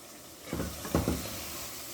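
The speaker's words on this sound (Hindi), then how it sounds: "इसको मैंने अभी कीमे को भूनना है। इसको आप अच्छी तरह से भून लें।" Minced mutton keema frying in a pan, a soft steady sizzle with a couple of brief louder stirring scrapes in the middle, close and fairly quiet.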